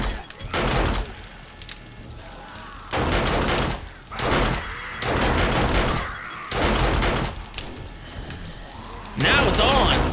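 An automated turret in the survival game 7 Days to Die fires loud, close bursts of rapid gunfire, four or five volleys broken by brief quiet gaps.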